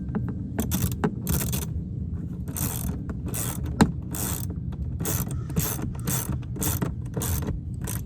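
Seat bolts tightened on a 1988 Mercedes-Benz 190E 2.3 W201, heard as quick, close ratchet clicks in short bursts with brief pauses between them and a low background hum.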